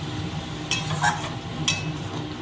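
Banana flower curry being stirred and sautéed with salt in a pan, a steady low sizzle with a few scraping stir strokes and faint utensil clinks, close and alone without talk.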